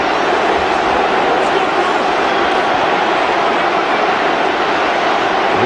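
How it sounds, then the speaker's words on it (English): A rugby stadium crowd of about 80,000 at an Italy v New Zealand test match in 2009: a dense, constant roar of voices, loud and unbroken, with a commentator's voice faintly underneath. "Well, the crowd in great voice."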